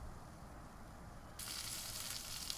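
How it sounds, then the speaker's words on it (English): Charbroiled oysters sizzle on a grill, a steady broadband hiss that jumps louder and brighter about halfway through, with no voices. "Now these are going to take about 7 or 8 minutes to cook on the grill."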